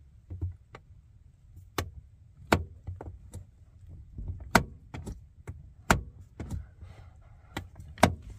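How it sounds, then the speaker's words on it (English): Clicks and clacks from an old car door lock mechanism with some corrosion, worked by hand in a row of sharp separate knocks and latch snaps at close range, over a low background rumble. "It's an interesting door lock."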